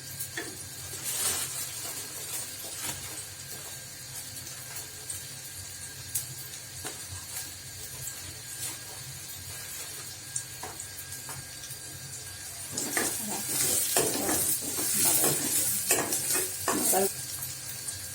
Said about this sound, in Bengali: দেখুন, বাদামি কালার হওয়া পর্যন্ত আমি এভাবে ভাজতে থাকবো